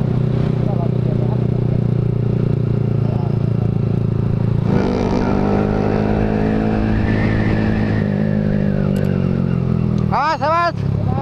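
A Yamaha R15 sport motorcycle rides along a road, its engine droning steadily up close. The pitch rises and falls with throttle changes, and a short horn-like tone sounds near the end, with wind and traffic noise throughout.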